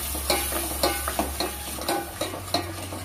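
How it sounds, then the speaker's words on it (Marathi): Ground spice paste with turmeric sautéed in a pan over medium flame, steady frying sizzle under repeated spoon scrapes and taps, close and fairly loud, no talk. "आणि 1 मिनिटभर हे वाटण परतून घेऊया।"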